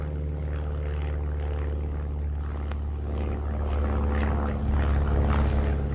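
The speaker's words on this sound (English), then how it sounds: "A marked plane." A propeller aircraft drones overhead at night above a farm, a steady loud engine hum that swells slightly louder toward the end, with no talking.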